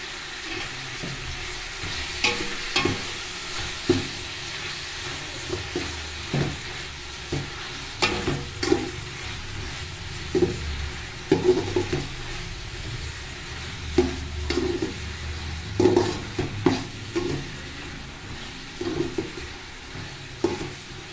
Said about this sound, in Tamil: புதினாவும் கொத்தமல்லியும் போட்டு நல்லா வதக்கணும்